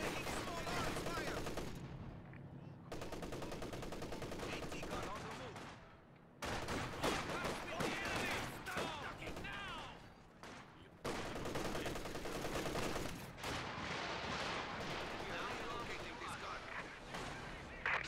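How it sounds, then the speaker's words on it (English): Small arms gunfire in the World War II strategy game Company of Heroes 2, with dense bursts of rifle and machine-gun fire crackling continuously through the battle mix, alongside game voices and other combat sounds. "Guards are taking small arms fire."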